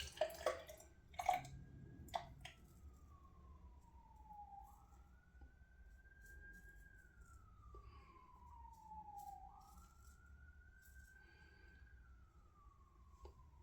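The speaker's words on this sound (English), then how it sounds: "Sirens." Emergency vehicle siren wailing at a distance in slow rising and falling sweeps, faint and continuous, after a few sharp clicks and clatters close by at the start.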